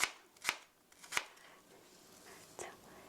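Three crisp knife slices land in a quick, uneven rhythm as apples are cut for an apple cinnamon cake. One fainter cut comes later. The sound is quiet and close, with no voices in the clip.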